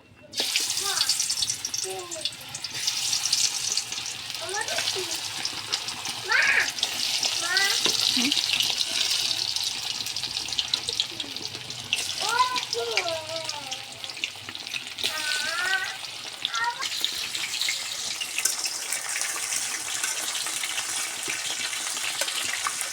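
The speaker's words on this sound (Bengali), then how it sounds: "তেলটা গরম হলে আমি এখানে মুরগি মাখানো ছেড়ে দেব। আমি এবার মুরগির মাংস মাখানোটা দিয়ে দিব।" Marinated chicken pieces fry in hot oil, a steady loud sizzle running throughout, with scraping and stirring noises and a person talking intermittently over it.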